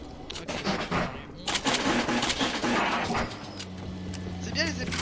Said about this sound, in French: c'est bien les balles explosives parce que du coup ça peut mieux exploser